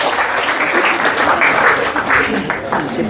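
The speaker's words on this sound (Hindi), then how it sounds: "प्लीज़ आप उनका इस्तेमाल कीजिए भरपूर जोश और तालियों के साथ" Loud, dense crowd applause at an open mic poetry event welcomes the poet, a continuous wash of many clapping hands mixed with cheering voices throughout.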